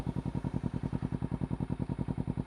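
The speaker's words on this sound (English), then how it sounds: "This is idle, and the bike's already warmed up at this point." A warmed-up Kawasaki Ninja 300 fitted with a Two Brothers Racing exhaust idles in a quick, even burbling pulse, steady and close, with no voices.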